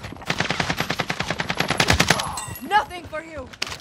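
Rapid automatic gunfire from Call of Duty: Modern Warfare, a loud sustained burst of closely spaced shots that stops abruptly, followed by a brief shouted voice and game sounds.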